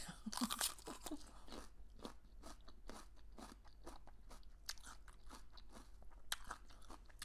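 Crisp, repeated crunching bites and chewing of pig ear cartilage close to the mic, an irregular series of sharp crunches with soft chewing between.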